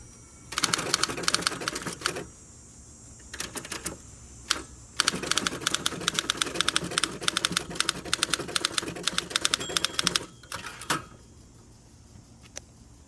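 Rapid clacking keystrokes on a 1960 Olympia SG-1 manual typewriter, typed outdoors, come in bursts separated by short pauses, sharp and close, with a few isolated strikes near the end.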